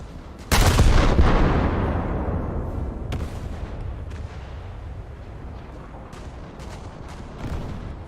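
Heavy 6-inch naval guns fire a salvo in World of Warships, one loud booming blast followed by a long rumbling decay, with a few fainter distant reports later on.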